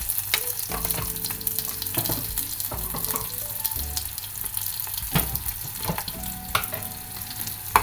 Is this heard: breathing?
no